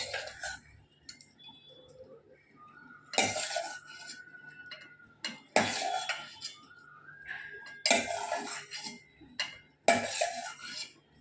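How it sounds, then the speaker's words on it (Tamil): Fried onions scraped from a pan onto a plate, heard as a run of sharp metallic clinks and scrapes from a spoon against cookware, coming in bursts with short quiet gaps, close and fairly loud. "நம்ம ஒரு தட்டில் ட்ரான்ஸ்ஃபர் பண்ணிக்கலாம்."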